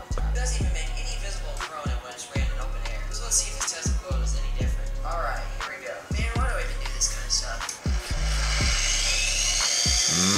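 Harsh, loud electrical buzzing from a homemade Tesla coil built from a toy, firing in repeated bursts with crackling discharges, and a voice speaking briefly in Portuguese over it.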